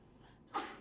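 A single sharp sneeze bursts out near the end, following a quiet stretch of room tone at a school district trustee meeting.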